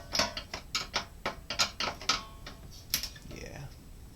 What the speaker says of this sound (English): Unscrewing the screws.